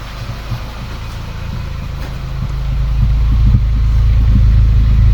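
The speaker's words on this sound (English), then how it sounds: "That engine is ticking over really nice. It's quiet. The only thing I can hear" A VW Polo 1.2 TSI engine idles with a slightly spluttering exhaust, producing a steady, close, low rumble that grows a little louder toward the end.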